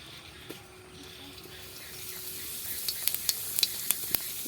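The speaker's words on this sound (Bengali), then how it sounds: "এবার আমি গোটা জিরে, গোটা গরম মশলা দিয়ে দেবো। গোটা জিরে দিয়ে দিচ্ছি।" Whole cumin seeds sizzle in hot oil in a kadai, a steady soft hiss with sharp crackling pops growing more frequent toward the end.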